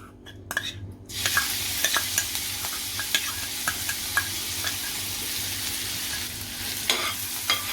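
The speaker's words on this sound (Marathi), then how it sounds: "तूप इतळलं की मिरचीचा त्याचा घालायचा आहे" Green chilies fry in melted ghee in a pan, a close, steady sizzle with scattered stirring clicks and scrapes after a brief burst of noise at the start.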